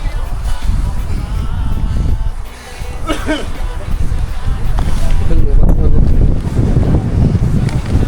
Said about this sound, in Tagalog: Kapit tayo. Hangin. Hinahangin kami.